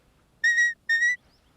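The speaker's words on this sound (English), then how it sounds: "So her walk-on whistle." Two sustained whistle blasts from a shepherd giving a walk-on command to a sheepdog working a flock of commercial ewes on a farm, each blast steady and loud, separated by a short gap.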